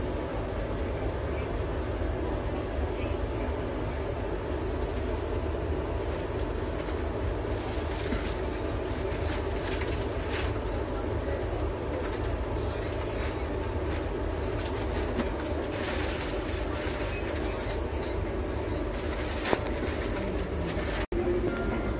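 Steady rumble and rattle of a passenger train running along the tracks in Bihar, India, heard from inside a carriage, continuous and fairly loud throughout.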